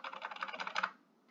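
Keys of a Logitech gaming keyboard being pressed in a quick, steady run of soft clicks for about a second, fairly quiet and close, then stopping.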